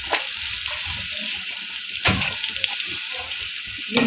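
Chopped onions hiss and sizzle as they hit two tablespoons of hot oil in a pot, a loud, steady frying crackle with a few scrapes of stirring.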